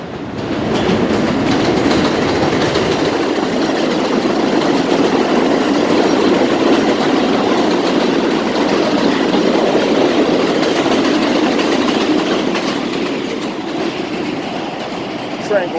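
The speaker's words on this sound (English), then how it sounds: "Okay, let that train go by." A train rumbles past continuously at close range, a loud steady roar with wheel clatter for the whole stretch, easing slightly near the end.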